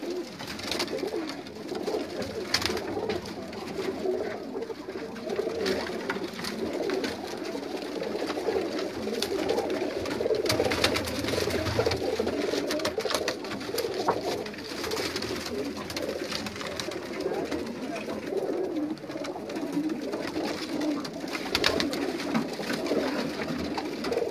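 Pigeons in a loft in Greece cooing steadily, overlapping low throaty calls from several birds close by that continue throughout, with rustling and wing movement and no talking.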